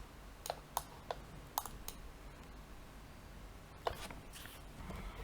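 Computer mouse clicking during CAD work in CATIA V5, a handful of sharp, faint, irregular clicks in a quiet room.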